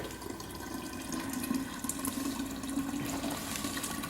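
Cold water pouring steadily from a tap into a pot for brewing kombucha tea, a close, continuous rushing splash with a slight rising fill tone over about four seconds.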